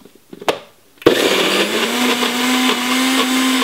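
A blender grinds raw corn kernels, starting with a few knocks and taps before switching on to a loud, steady whirring roar that holds for the rest of the clip.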